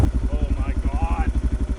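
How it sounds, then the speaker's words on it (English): A dual-sport motorcycle with a dirty air cleaner idles roughly nearby, a fast uneven chugging pulse, while a voice talks briefly over it. "Idling funny. He doesn't like his dirty air cleaner."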